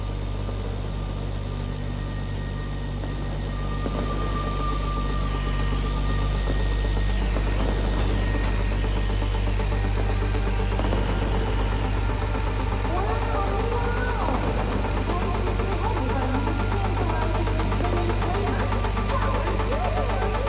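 A car engine drives steadily in the MindsEye video game, a low continuous hum with a faint knocking rattle that persists for the whole stretch, mixed with background game sound.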